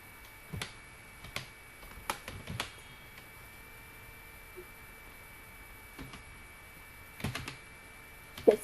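Computer keyboard typing in a word processor, with short bursts of soft key clicks separated by quiet pauses over a low steady hum.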